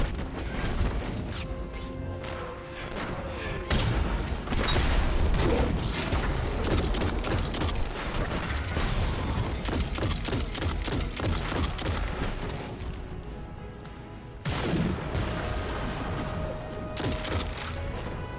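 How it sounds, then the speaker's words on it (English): Rocket launcher fired at an Arc-shielded Knight amid Destiny 2 combat, with dense, continuous explosions, crashes and mechanical clatter filling the whole stretch, loud and close. "I have to grab this heavy so I can shoot a rocket at this arch shielded knight"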